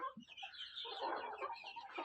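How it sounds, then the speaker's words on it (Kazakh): Young Kuchinsky Jubilee breed chicks murmur and cluck in a soft, continuous chorus of overlapping calls, fairly quiet and close, with no talking. "жап-жас балапан тауықтар"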